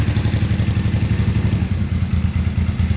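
Honda Shadow VT500 motorcycle engine idles cold with no choke, a close, loud, rhythmic low thumping putter that stays steady with one brief dip, no voices.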